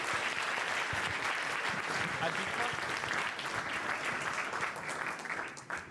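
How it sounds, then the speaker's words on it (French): A cinema audience at a short-film screening night applauds the film crew, a thick, continuous wash of clapping that holds steady and starts to fade in the last moment. "On peut les applaudir encore une fois."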